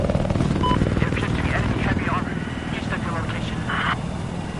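Little Bird helicopter in a military video game flying close past, a steady rotor and engine roar running throughout with people talking over it.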